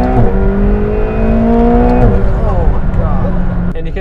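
A 2019 McLaren 720S is driven hard, its engine revving up through the gears with a loud, aggressive note and a sharp shift partway through. Road and wind noise run underneath the whole time.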